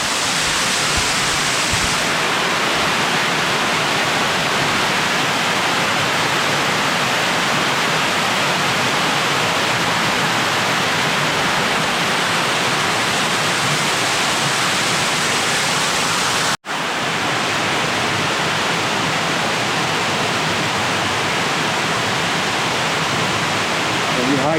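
A waterfall on a hiking trail rushes in a loud, dense, unbroken roar, close by, with one brief cut partway through.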